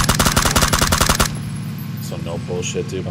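Rapid automatic fire at a vehicle in a video game, a loud, fast rattling burst lasting over a second that stops abruptly, after which people talk.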